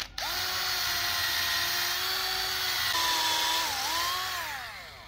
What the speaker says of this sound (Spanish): Le vamos a hacer guía con el taladro.